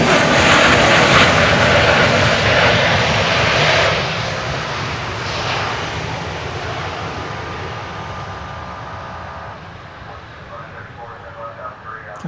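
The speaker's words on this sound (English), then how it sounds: "It's a Bombardier Challenger 300." Bombardier Challenger 300 business jet at Dallas Love Field, a loud, broad jet engine roar that slowly fades as the aircraft moves away, with people talking over it.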